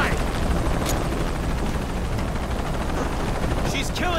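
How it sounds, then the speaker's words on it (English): A helicopter in Shadow of the Tomb Raider thunders with a loud, continuous rotor roar that fills the scene, joined near the end by sharp gunfire bursts, while shouted combat voices carry underneath. "Always hated helicopters."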